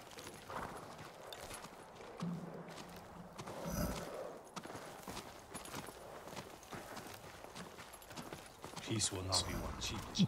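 Horse hooves clip-clopping in the video game Ghost of Tsushima, faint and uneven under game sounds and a voice talking, with a louder, busier stretch near the end.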